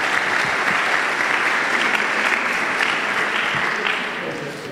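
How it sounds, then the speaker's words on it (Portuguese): A church congregation at PIB Caruaru applauds its theatre team, a broad sustained wash of clapping from the room that holds steady and then tapers softly near the end, with no voices over it. "Dá um aplauso ao Senhor pela nossa equipe de teatro aqui."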